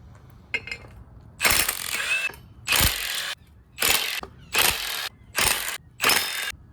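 Bursts of ratchet clicking come from work on the rear sprocket of a Hawk 250 motorcycle. About six short, loud bursts ring out close by, separated by brief pauses.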